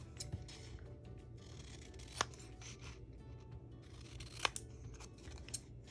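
Scissors snip by hand around small paper envelopes for valentine crafting, giving a series of crisp close cuts with a few sharp clicks amid quiet paper rustling.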